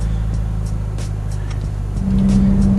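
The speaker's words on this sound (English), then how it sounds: "I'm just driving pretty slow right now in the community" A car rolls slowly through a residential community with a steady low engine drone heard from inside, then the engine note rises into a firmer hum as it picks up slightly, with no talking.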